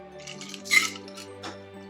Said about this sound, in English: and we're going to strain it in.